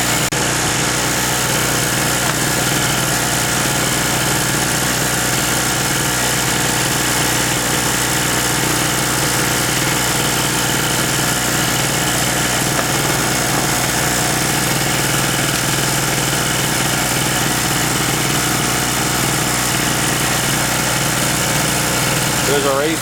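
A King 950W two-stroke generator engine runs continuously at high revs, a loud, buzzy drone close by with little change throughout, while someone talks at times over it.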